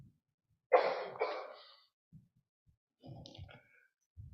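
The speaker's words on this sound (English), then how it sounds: "when one person coughs, everybody else kind of." A man coughs during a church sermon, a close burst of several harsh coughs followed by a softer cluster a moment later, in an otherwise quiet hall.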